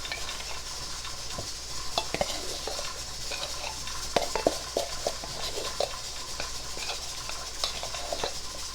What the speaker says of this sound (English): First, we're going to mix the dry ingredients into this bowl